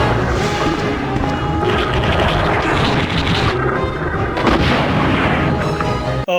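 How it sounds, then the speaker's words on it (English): A rocket launcher fires in the original Resident Evil game, producing a loud sustained rumbling blast with heavy booming bursts that fill the whole stretch. "we still have the rocket launcher. It kills everything in one hit"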